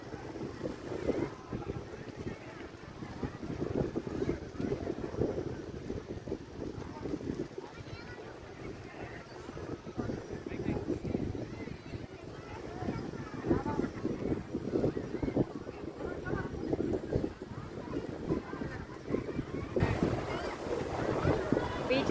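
Wind buffets the microphone on a beach while waves wash in a steady broadband roar, with people talking faintly over it throughout.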